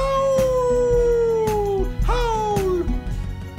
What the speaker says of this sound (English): If you ever need me, Pepper, all you gotta do is howl